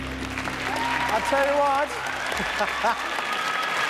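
An audience applauds in the ice rink studio of the Australian TV show Dancing on Ice (2006), a steady clatter of clapping that continues beneath a voice speaking over it.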